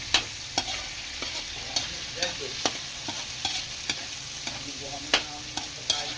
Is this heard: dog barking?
no